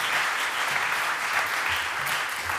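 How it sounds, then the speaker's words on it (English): Sustained audience applause at a climate finance panel event, a dense, steady wash of many hands clapping throughout, fairly loud and even with no talk over it. "can we have a big round of applause for Sanne"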